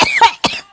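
A few short, harsh coughs come in quick succession, loud and close to the microphone, with no talk around them.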